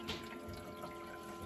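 A Frigidaire 26-lb ice machine pumps and fills with reverse-osmosis water, giving a low, steady mechanical hum with soft trickling, quiet and continuous, with no talking.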